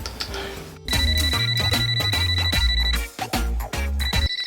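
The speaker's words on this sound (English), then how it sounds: "pick up the phone." Telephone ringing with a bright electronic ringtone, loud and close, a continuous tone that stops briefly and then starts again, mixed with other sounds.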